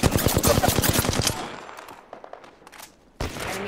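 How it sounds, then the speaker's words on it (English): Automatic gunfire in the video game Apex Legends, a fast rattling burst of close, loud shots that trails off into scattered quieter shots and impacts, then another burst starts near the end. "Opening fire."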